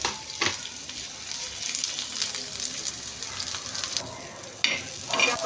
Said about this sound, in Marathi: आता मी ह्याच्यामध्ये कांदा लालसर भाजून घेणार आहे।